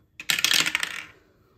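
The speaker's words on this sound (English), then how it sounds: "Let's roll this dice." Dice tumbling and rattling across a table, a single short roll of dense clattering that fades out within about a second.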